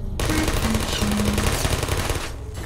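A Portal video game turret fires a rapid machine-gun burst of dense, loud shots for about two seconds before cutting off.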